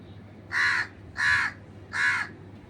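Three harsh crow caws in an even rhythm, loud and close, with a faint low hum underneath.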